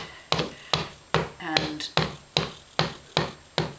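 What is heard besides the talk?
gentle hammering along book spine end in case binding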